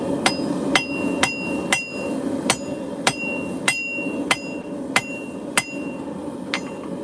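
Steel being forged by hand into a hammer drift: about a dozen sharp, ringing hammer blows on the anvil at a steady pace of roughly one every half second, close and loud over a constant forge roar.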